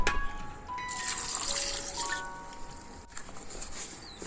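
A cup of water pours steadily into a pot of gooseberries, leaves and dried chillies in a close, continuous gush that tapers off after about two seconds.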